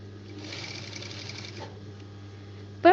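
Sewing machine stitching a body pavadai (skirt) fabric, a close, steady mechanical whir for about a second, then a pause and a brief sharp click.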